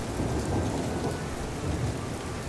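Rain and thunder in the Roman city-builder game Pax Augusta, a dense steady hiss of rainfall over low rumbling thunder, continuous and fairly loud with no voices.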